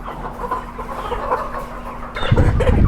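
Lohmann hens cluck and squawk nearby while being moved by hand from floor rearing into poultry cages, with a steady hum beneath and a louder burst of flapping and clatter near the end.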